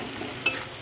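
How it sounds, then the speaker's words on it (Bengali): Onions and green chillies frying in a wok for a fish curry, a brief close sizzle with two quick stirring scrapes and no voices. "পেঁয়াজটা একটু হালকা করে ভেজে নিই"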